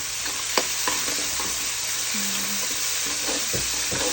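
Fried ingredients sizzle steadily in a pan while being sautéed and stirred for a monggo (mung bean) dish, with a few sharp utensil scrapes and clinks over the continuous frying hiss.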